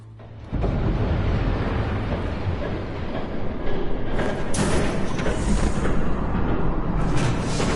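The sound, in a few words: train passing by in Batman Telltale video game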